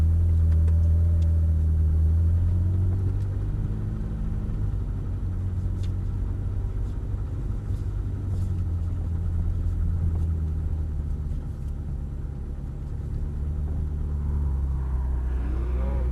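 Ferrari F430 pulling away gently at a driving experience at Prestwold Hall: a deep, steady engine rumble at low revs, close and continuous, easing slightly as the car rolls off.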